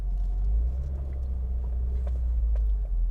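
Car engine from the video game Motor Madness, a loud, steady low rumble while driving through a city, continuous with no talk.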